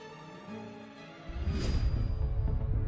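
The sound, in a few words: recorded sound of solar storm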